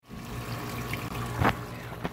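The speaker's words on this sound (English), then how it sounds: "I'm running water over here. It's coming back into the pit." Water runs back into a backyard sump pit, a soft continuous trickle with a brief splashy burst midway, faint and close, with no talk.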